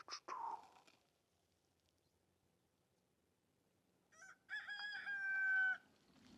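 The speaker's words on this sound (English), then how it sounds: "Ooh, look at that rooster." A rooster crows outdoors, one long harmonic cock-a-doodle-doo rising out of near silence after a brief earlier squawk, moderately close and clear with no talking.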